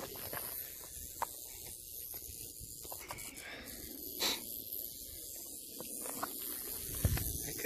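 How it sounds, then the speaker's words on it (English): A snake hisses outdoors while scouting in the woods, several faint-to-moderate breathy bursts scattered over a quiet background with occasional soft knocks and rustles. "Because there was multiple sounds, I didn't recognize it as a snake at first."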